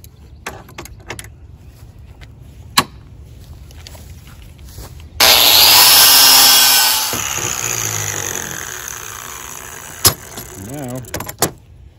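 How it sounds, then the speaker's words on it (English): A steel file is ground with a power grinder to strip its teeth off the side, a loud sustained grind of about two seconds followed by quieter grinding and scattered sharp clicks and knocks. "Let's grind these teeth off the side."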